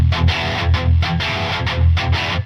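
Ibanez strat-style electric guitar played through its single-coil pickup with the tone knob fully up, a loud, bright and slightly distorted strummed pattern of repeated chords in a steady rhythm with short gaps between bursts.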